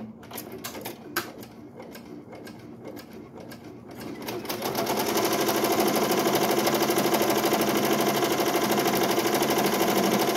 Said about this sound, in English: I'm gonna go ahead and place start again, and it's gonna do the tack down stitch.